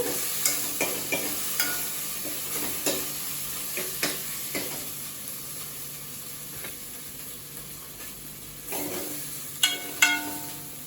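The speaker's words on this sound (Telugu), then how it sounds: "మనకి అల్లం వెల్లుల్లి పేస్ట్ వేగిందండి." Ginger garlic paste fries in a pan for a masala curry with a soft, steady sizzle. Close spatula scrapes and taps come at an irregular pace, with a louder flurry near the end.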